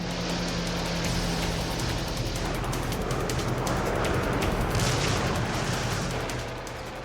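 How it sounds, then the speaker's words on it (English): Massive artillery bombardment pounds a Pacific island in wartime, a loud, continuous roar of overlapping blasts and rumbling booms that swells and holds for several seconds before easing slightly at the end. "for 75 days the island is pummeled with a massive bombardment"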